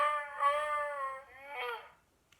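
A voice imitates Wookiee speech from Star Wars, a short, high, wavering moaning growl that rises and falls over about two seconds, close and fairly quiet, ending abruptly.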